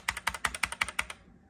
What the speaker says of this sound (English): so this is my keyboard